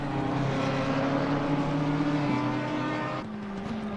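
Audi and BMW race cars at racing speed around the Zolder circuit in a racing video game, a steady high engine drone with shifting pitch, near and continuous, one car easing off toward the end.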